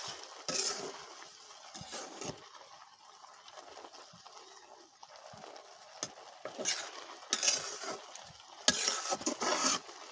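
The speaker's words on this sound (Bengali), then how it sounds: "ঢাকনাটা উঠিয়ে এখন একটু নাড়াচাড়া করে দিব।" Jute-field greens cooked down in a covered pan, now stirred with a spatula, producing intermittent scrapes and light clinks over a faint, quiet background hiss.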